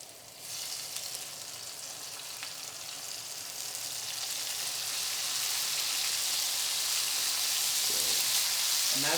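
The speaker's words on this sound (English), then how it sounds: "And that sizzling, if you hear that, that's okay." Vegetables sizzle in hot oil, a steady crackling hiss that swells louder over time, with a brief stir near the end.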